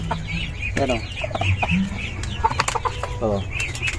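Hens near a nest where they have been eating eggs give a busy mix of loud, close clucks and squawks, with some overlapping calls.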